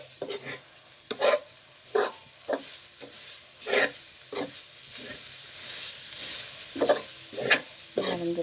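Grated coconut is stirred into vegetables cooking in a pan, giving repeated spoon-scraping strokes in an uneven rhythm over a soft, constant sizzle, close and fairly clear with no talking.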